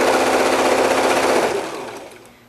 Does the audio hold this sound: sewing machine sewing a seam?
yes